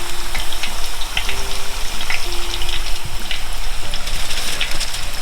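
General Tso chicken deep-frying in a fryer for the second time produces a loud, dense, rain-like bubbling hiss that holds steady throughout, with a faint tonal hum in the background.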